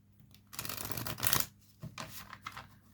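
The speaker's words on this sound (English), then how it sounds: "So let's give him one more shuffle." A deck of cards is shuffled nearby in a quick riffling burst, followed by a few softer taps and flicks of the cards, with no talk.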